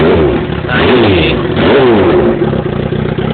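Yamaha R1 sport bike on a track with a full straight-pipe exhaust, roaring loud and close as the throttle rises and falls in rev sweeps, with a brief spoken word over it.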